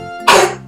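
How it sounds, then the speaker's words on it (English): A single short, harsh cough bursts out close and loud over soft background music, lasting well under a second. "Do you have a cough?"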